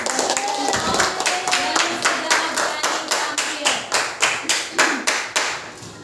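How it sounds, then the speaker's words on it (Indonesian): A classroom group claps in applause for students who presented their group work, about a dozen strong, evenly spaced claps forming a rhythmic beat that grows slightly louder, with no talk over it. "Kita memberikan aplaus"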